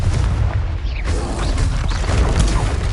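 A Confringo fire spell in Hogwarts Legacy sounds as a sustained crackling, booming blast over heavy low rumble, with whooshing sweeps and clattering debris running through the whole three seconds.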